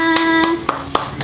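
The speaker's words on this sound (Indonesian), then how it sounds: "Tepuk tangan buat semuanya." Children clap their hands during a fourth-grade primary school lesson. Five or six sharp, separate claps come at a quick, slightly uneven pace, close and clear over a steady sustained tone.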